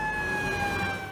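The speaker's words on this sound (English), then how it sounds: "They were deaf to the sirens and horn." A fire truck siren wailing in a long, slowly falling tone, loud and steady under traffic rumble over a brief stretch.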